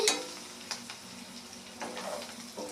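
Mutton fry with coriander gets stirred in a pan, a soft steady sizzle under a few scraping strokes of the spoon, close and fairly quiet.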